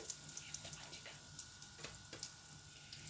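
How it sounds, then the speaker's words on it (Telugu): Buttermilk poured from a container into a pan for a fenugreek buttermilk drink, a steady low trickle and splash of liquid running quietly throughout with a few faint clinks. "ఇప్పుడు ఈ మజ్జిగనంతా కూడా నేను ఇందులోకి ట్రాన్స్ఫర్ చేసేస్తున్నాను"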